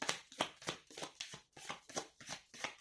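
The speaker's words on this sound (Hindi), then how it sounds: "8 कार्ड्स निकालूंगी मैं।" Tarot cards being shuffled by hand in a quiet room, with a steady series of about ten crisp riffling bursts at an even rhythm, close and fairly soft, with no talking.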